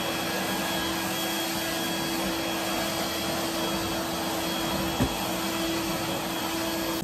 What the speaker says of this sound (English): Well, I'm gonna vacuum a little bit more.